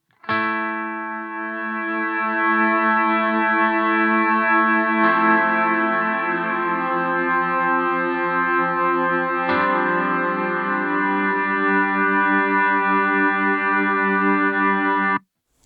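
Chase Bliss Onward pedal in slow fade mode with freeze engaged, a sustained harmonic drone swelling in gradually and holding steady, with two brief re-triggered attacks partway through; no voices.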